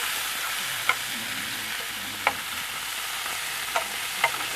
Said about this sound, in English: some sausages, which